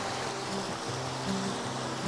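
A river flows steadily at its bank, giving a constant close wash and rush of water with a faint low hum and no voices.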